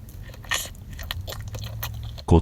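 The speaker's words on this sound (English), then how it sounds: "Let's eat some fat sushi." Biting into and chewing a thick piece of sushi close to the mic, with soft wet crunches and smacking in an uneven rhythm, ending in a louder bite or bump.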